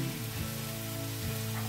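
Curry leaves and chopped ridge gourd sizzle in hot oil in a pan, a steady close frying crackle with no talking.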